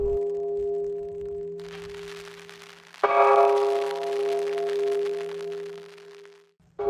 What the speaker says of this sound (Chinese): 突然响起很大的钟声